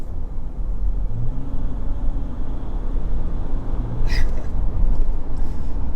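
A 2024 Volkswagen Amarok V6 ute pulls away hard, a loud low engine roar heard from inside the cabin, steady and rumbling for a few seconds.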